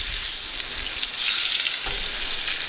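A very thick cut of steak sizzles steadily in a Camp Chef Italia pizza oven at about 750 degrees, giving a continuous close crackling hiss with small pops.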